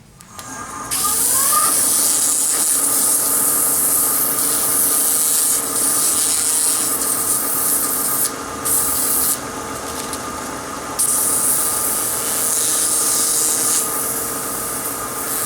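Steady hand sanding on a small wooden Christmas ornament, a continuous dry rubbing hiss that runs throughout with slight shifts in intensity, close up and without speech.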